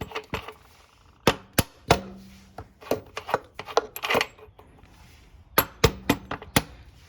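A rubber mallet strikes the axle of a Kawasaki ZX6R motorcycle in a series of sharp, close knocks, some in quick pairs, with short pauses and a brief metallic scrape between them.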